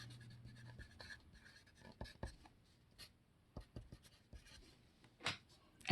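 A marker sketching a tangent line on a board, with short, separate squeaky strokes and taps spaced irregularly, close and fairly soft, against a quiet room with a faint voice.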